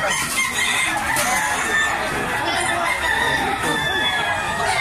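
Chickens cluck and squawk in a busy, continuous chorus, with a rooster's crow rising above the noisy farmyard clatter, at a chicken seller's.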